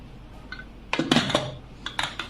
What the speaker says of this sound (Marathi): झाकण लावायचं कुकरचं